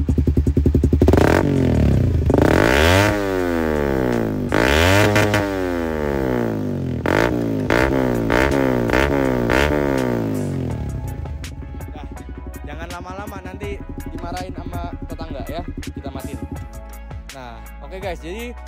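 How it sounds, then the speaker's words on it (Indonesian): Modified racing motorcycle with an aftermarket exhaust, revved hard in repeated rising and falling bursts, loud and close, then settling into a rough, clattering idle with sharp pops. "Itu tadi knalpotnya ya"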